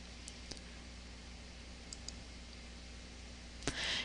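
Computer mouse clicks made while working in Access 2013, a few faint, sparse, isolated clicks over a steady low hum, followed by a louder click near the end.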